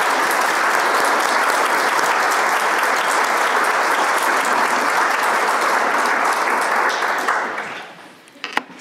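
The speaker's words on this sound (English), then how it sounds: "let's just give another round of applause" Sustained, loud applause from an audience at a graduation event, dense and even clapping by a crowd for about seven seconds before it tapers off, with a few stray sounds at the end.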